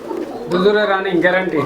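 Two pairs of Lahori pigeons coo close by in a soft, rolling burst, with a brief pause and a second cooing phrase near the end.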